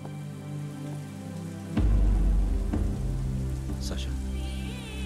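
Heavy rain comes down in a steady wash that suddenly swells louder partway through, with a few sharp splashes and knocks over the constant downpour.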